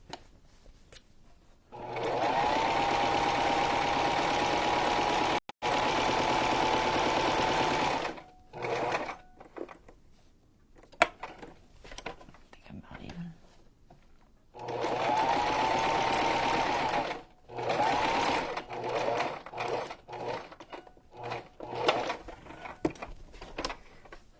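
A sewing machine runs in two long steady bursts of rapid straight stitching on a junk journal cover, with shorter stops, starts and clicks of handling between them.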